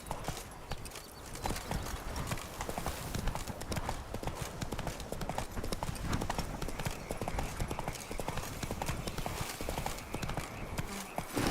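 Roach, the horse in the video game The Witcher 3, galloping with rapid rhythmic hoofbeats over steady ambient game noise, close and sustained for several seconds.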